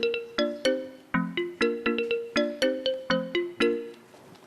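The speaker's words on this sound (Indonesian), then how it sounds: "Oh sudah, saya telepon dia dulu." A phone ringtone plays when a call is placed: a loud, bright electronic melody of quick plucked notes in a steady rhythm, repeating for several seconds before fading.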